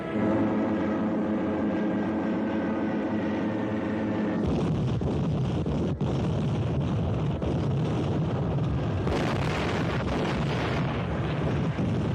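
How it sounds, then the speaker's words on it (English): A 1956 film soundtrack of enemy planes attacking Pearl Harbor: a dense, loud roar of aircraft with sudden bursts like explosions, and heavy continuous rumbling throughout. "The island of Oahu is being attacked by enemy planes."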